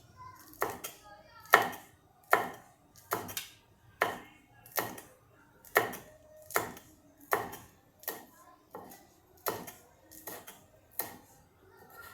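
Green chillies being chopped on a board for salsa, about fifteen crisp knife strikes in a steady, even rhythm, close and distinct with quiet pauses between them.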